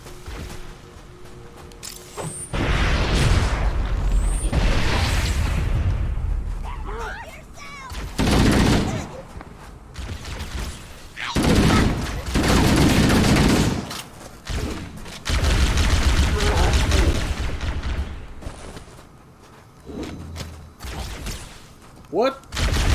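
Halo game weapon fire in repeated bursts and single loud shots separated by brief pauses, with thuds and mechanical clatter mixed in and a voice talking between volleys.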